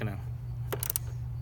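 A wrench tightening a bolt on an Akrapovic exhaust fitted to a Honda CB300R motorcycle gives a short burst of metallic ratcheting clicks over a steady low hum.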